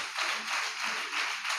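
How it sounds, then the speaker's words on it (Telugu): A worship congregation claps together in a steady rhythm, the rounds of hand claps fairly soft and distant in the hall, with no voices over them. "చప్పట్లు కూడా దేవుని మహిమపరచుదాం."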